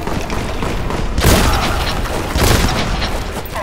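Two loud, booming shotgun blasts from a Warhammer 40,000: Boltgun shooter, about a second apart, each a broad crack trailing into rumble over constant heavy background noise.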